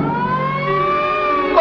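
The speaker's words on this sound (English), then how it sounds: "It's a siren. Probably an ambulance or a police car." A siren, likely from an ambulance or police car, wails as a single steady rising tone heard alone at moderate loudness.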